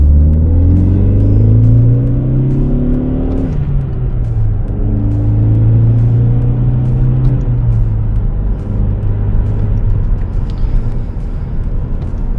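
Ford Focus ST engine idling close by as its revs fall, a steady low rumble whose pitch sweeps downward and settles into an even idle, with no voices.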